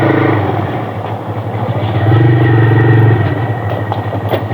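Motorcycle engine running steadily and loudly close by, heard just after its chain and sprocket set was replaced, with a continuous throbbing drone and no talk.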